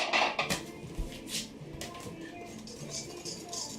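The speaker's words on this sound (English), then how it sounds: "So basically I'm just going to mix that up. I'm going to use just a regular whisk." Wire whisk beating cookie ingredients in a bowl, a fast run of light metallic clinks and scrapes against the bowl sides, close and steady, with no talking.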